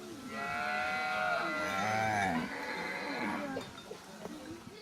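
A herd of cattle lows repeatedly as it is driven into a kraal for the night, moos rising and overlapping with the herd's movement and faint voices of herders in the background.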